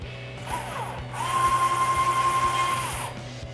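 A power screwdriver drives screws into a clean room frame, its motor whirring steadily at a high pitch with a faint ratcheting rhythm, rising as the screw seats, close by with no talk.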